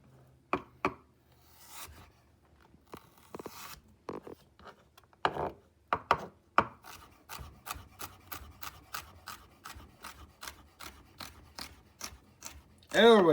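A knife chops celery on a wooden board, beginning with scattered separate cuts and settling into a quick, even run of crisp chops, close up and clear.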